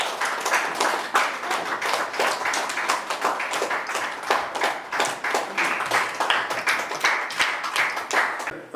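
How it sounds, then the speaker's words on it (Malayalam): An audience claps for a student at a children's holiday seminar, a moderately sized group producing steady, distinct rhythmic hand claps that continue at an even pace from start to finish. "നല്ലൊരു കൈയടി അഭിനയിക്ക് കൊടുക്കാം."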